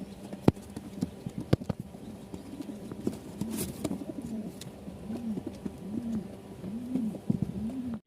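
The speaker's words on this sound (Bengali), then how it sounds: "এই দুই পিচ কবুতর দেখেন মার্শাল্লা দুইটাই রাজশাহী ভালো মানের গিরিবাজি" Giribaz pigeons cooing close by in a repeated, rhythmic series of soft throaty coos, with scattered knocks and shuffling in the background and no talking.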